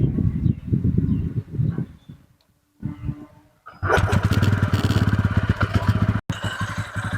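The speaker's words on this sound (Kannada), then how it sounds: "ಈ ಬೈಕ್ ಸ್ಟಾರ್ಟ್ ಮಾಡಿದ್ರೆ ನಿಮಗೆ ಎಕ್ಸಾಸ್ಟರ್ ಸೌಂಡ್ ಬಂದು ಈ ರೀತಿ ಬರುತ್ತೆ." TVS Ronin motorcycle, a 2025 model with electric start, cranks briefly after some handling noise, then its engine catches and settles into a loud, steady exhaust thrum up close, broken by one short dropout.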